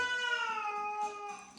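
A house cat meows in a long, drawn-out, slightly falling wail, followed by softer fading tones, fairly close and quiet in a kitchen.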